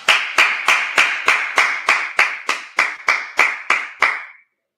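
Group of people clapping together in a steady unison rhythm, about a dozen sharp, evenly spaced claps that stop abruptly.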